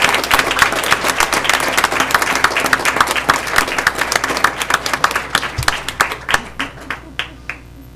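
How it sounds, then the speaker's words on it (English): An audience at a school board meeting gives a loud round of applause, dense clapping from many hands close by that gradually thins and fades away. "let's give them one more round of applause"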